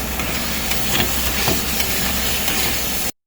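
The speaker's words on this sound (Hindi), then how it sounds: "जब तक हम इसको ऐसे ही घुमाएंगे और इसको तेज आंच पर फ्राई करते जाएंगे" Chicken karahi fries over high heat in ghee and oil while the masala is stirred, giving a steady close hiss and sizzle with faint scraping that runs continuously and then cuts off abruptly.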